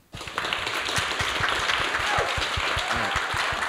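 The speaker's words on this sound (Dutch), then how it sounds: "En geef hem een hartelijk applaus." Audience applause at a live storytelling event fills the space, a dense, steady wash of clapping from many hands that starts abruptly and holds at an even level to the end.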